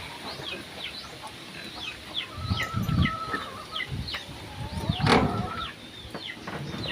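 A mother hen clucks in short soft bursts close by, with chirping birds and low outdoor background around her.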